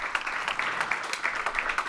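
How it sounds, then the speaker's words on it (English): Applause from a comedy show audience, a dense steady patter of many hands clapping at once, fairly loud and continuous for a couple of seconds. "A huge round of applause for you guys for coming out."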